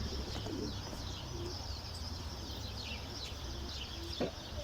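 Pigeons cooing softly at a loft, with a low repeated coo or two standing out over steady outdoor background noise and faint chirps.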